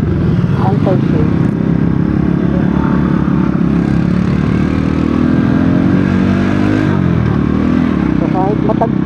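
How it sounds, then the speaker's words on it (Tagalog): A motorcycle rides over a rough, potholed road, captured by a mounted action camera, with a steady loud engine drone and rattling clatter from the bumps throughout; faint voice traces come through briefly. "So kahit matagtag dumaan yung motor niyo sa lubak-lubak"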